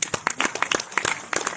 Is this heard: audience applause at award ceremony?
yes